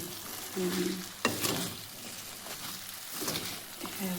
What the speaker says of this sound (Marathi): ह्या बघा अशी चांगली परतून घेतली